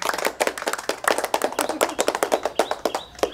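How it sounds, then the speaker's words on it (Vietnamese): Audience clapping during a Vietnamese comedy sketch: a brisk run of sharp, distinct hand claps in a quick, uneven rhythm, close and fairly loud with no voices over them. "Vỗ tay."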